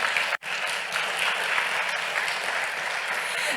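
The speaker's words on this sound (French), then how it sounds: "Grande main d'applaudissements." A conference audience at a phytotechnology colloquium in Quebec claps for a speaker being introduced to a panel, a steady wash of applause from a sizable room, with a brief dropout near the start.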